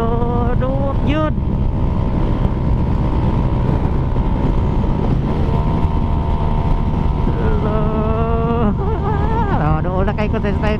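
A Yamaha Sniper 155 motorcycle ridden at high speed, its engine droning steadily and loudly under heavy wind buffeting, with brief pitch rises as the revs change.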